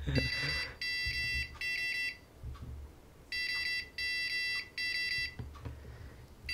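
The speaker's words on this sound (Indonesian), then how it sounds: "Oke, itu untuk buzzer." Piezo buzzer driven by an Arduino tone function, giving a series of sharp, high electronic beeps in short regular bursts with brief gaps, close and clear.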